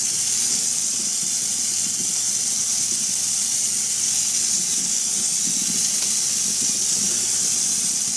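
Water runs steadily from a tap with a constant hiss as vegetables are rinsed, with faint splashing and handling sounds underneath.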